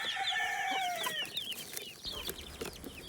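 Forty-five-day chicks cheep in high, rapid peeps near a mother hen, which clucks lower beneath them, a busy cluster of bird calls close by.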